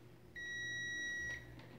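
A single microwave oven beep, a steady high-pitched tone lasting about a second, against a quiet background hum, from a microwave that turns on but does not heat.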